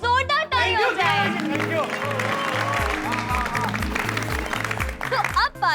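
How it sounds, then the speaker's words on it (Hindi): Audience applause rises for a performer at a costume competition, clapping and crowd chatter blended under a rhythmic backing music beat, with a voice briefly heard at the start. "इनके लिए जोरदार ताली हो जाए।"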